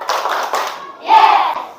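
A classroom of children claps in rhythm during an ice-breaking game, bursts of clapping mixed with young voices counting along, close and fairly loud.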